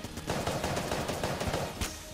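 Gunfire from a weapon in the top-down shooter game Enter the Gungeon: a quick, steady stream of small popping shots heard fairly quietly over game music, with no talk.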